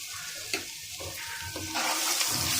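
Vegetables frying in a pan with garlic paste and salt give off a close, steady sizzle. Stirring scrapes and clatters on top, and the hiss grows louder and brighter toward the end.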